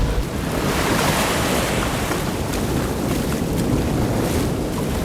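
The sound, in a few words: ocean waves crashing, from the film Cast Away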